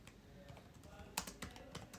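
Quiet, uneven taps on a computer keyboard during an online scholarship demo exam, with short clusters of keystrokes and a few louder key hits toward the middle. No one speaks.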